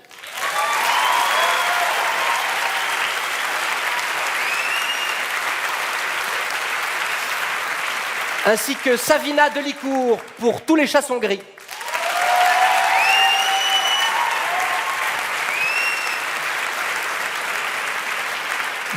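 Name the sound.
audience applause for the Malandrin brothers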